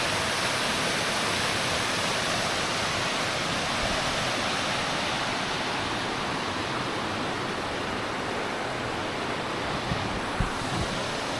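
Floodwater after heavy rain rushes past in a constant, loud, broadband roar. There are no pauses in the flow and no voices.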